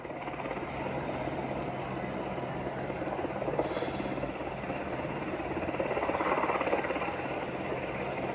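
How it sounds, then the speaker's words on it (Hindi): A steady mechanical drone of a helicopter, continuous and fairly loud, swelling slightly in the middle and near the end. "ये देखिए हेलीकॉप्टर है"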